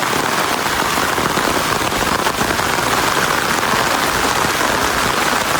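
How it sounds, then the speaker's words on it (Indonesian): Heavy rain pours down steadily over a village, a dense unbroken hiss that fills the whole stretch with no voices. "Beberapa hari gak turun hujan, sekalinya turun, Masya Allah, luar biasa."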